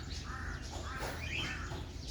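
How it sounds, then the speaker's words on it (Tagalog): A crow caws a couple of times at a moderate distance over a steady outdoor background hum on Samal Island. "May uwak."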